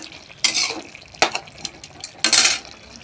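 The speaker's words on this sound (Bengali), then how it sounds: "তারপর দিয়ে দেব গরম মশলা দিয়ে দিলাম বন্ধুরা, দিয়ে মিক্স করে নেব" Aloo potol curry being stirred in a pan right after garam masala goes in, with several loud scraping sweeps against a soft sizzle, each stroke a distinct rasping burst.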